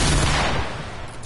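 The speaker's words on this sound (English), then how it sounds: "shoot your gun when you typed in OD" One loud burst of video game gunfire, a sharp blast that decays over about a second, heard alone.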